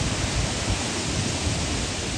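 Samrong Kiat waterfall in Khun Han district, Sisaket, fed by a stream from the Phanom Dong Rak range, sounds as a constant, dense rush of falling water, close and steady, with no voices.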